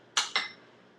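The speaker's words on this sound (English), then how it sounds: "So I'll put the cover back on." Two quick metallic clanks ring out as a lid goes back onto a pan cooking a spinach pie quesadilla, the second close behind the first, each fading with a short ringing tail in an otherwise quiet kitchen.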